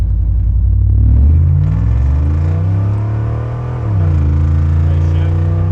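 A 1987 Chevrolet Camaro IROC Z28 rumbles loudly from inside the cabin while driving, its V8 drone dropping through a gear change, then easing off and pulling again.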